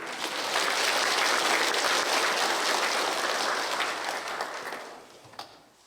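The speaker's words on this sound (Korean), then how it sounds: "그래서 우리 박수 좀 해주시면 고맙겠습니다" Audience applause for a priest at an Advent lecture, a dense, steady wash of many hands clapping that fills the room and tapers off near the end.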